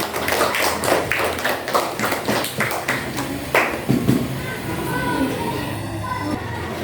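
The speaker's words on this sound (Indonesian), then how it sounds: "Kasih tepuk tangan untuk Anda." Students in an Indonesian classroom give a short round of applause for a classmate, a few seconds of close, uneven claps that thin out and fade into the room's quiet murmur.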